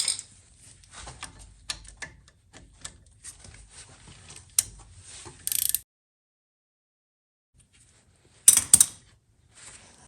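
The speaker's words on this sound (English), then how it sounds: "Requires an Allen key or Allen bit, 1/4 inch Allen bit" Work on a 1974-78 Ford Mustang II front brake, removing a caliper part with a 1/4 inch Allen bit: soft close mechanical clicks and ratcheting, a short louder burst, then a silent gap and a final pair of brief clanks.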